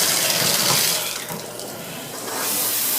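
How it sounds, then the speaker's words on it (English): A tap runs full into a sink, a loud, steady, close rush of splashing water with a slight swell and dip, no voices over it. "So, turning the water back on,"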